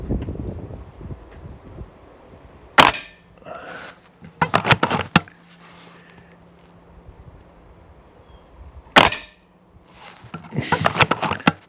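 Shots from a Walther Reign MK2 bullpup air rifle aimed at a target, a few sharp close cracks spaced seconds apart with handling rustle and mechanical clicks between them.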